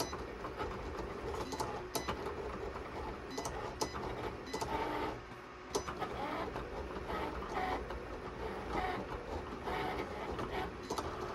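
A vinyl cutting machine cutting permanent vinyl for a tumbler runs continuously with a busy mechanical rattle and scattered sharp clicks, close by and without talking.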